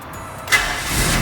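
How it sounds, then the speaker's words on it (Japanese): A Toyota AE86 engine cranks over and catches after a year unused, settling into a steady running rumble that builds slightly toward the end. "つなげばエンジンに火が入るはず"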